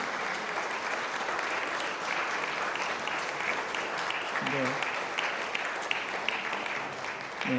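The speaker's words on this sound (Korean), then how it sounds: "박수로 축하해 주시기 바랍니다." Congregation applause at a pastor's retirement ceremony in a church, sustained dense clapping from a large crowd throughout, with brief voices underneath.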